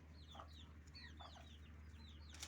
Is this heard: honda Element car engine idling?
no